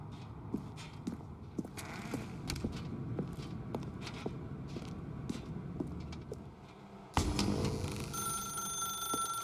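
Telephone ringing in The Stanley Parable Ultra Deluxe video game, thin repeated bell tones over soft footsteps in a quiet room, then a louder ring bursts in near the end.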